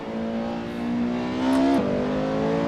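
Porsche 918 engine in Assetto Corsa revving up steadily in second gear, close and loud, with a quick shift near the end before the pitch climbs again.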